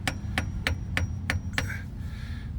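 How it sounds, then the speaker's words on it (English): Six sharp, evenly spaced metallic taps from a small screwdriver striking a Silverado/Sierra 6L80 transmission pan, close and distinct over a low background rumble, followed by a faint scrape. "I'm going to use my little tiny screwdriver and I'm going to just tap"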